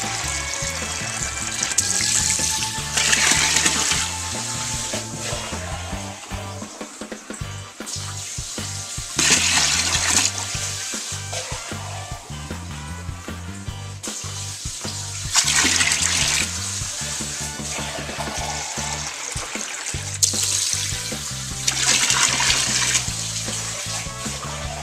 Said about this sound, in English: Okay, let's start adding some cold now.